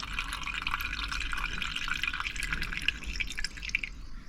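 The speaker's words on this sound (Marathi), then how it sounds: "सगळं पाणी नितळतं हे बघा" Water drips and trickles steadily from washed rice, a soft, continuous patter of draining liquid close by with no voices.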